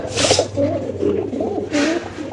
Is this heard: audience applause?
no